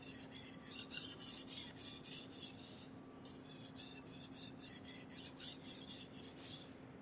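A knife's backside is sharpened on a Japanese whetstone in steady, rhythmic rasping strokes. They are quiet and close, with a short pause partway through, and a faint hum runs underneath.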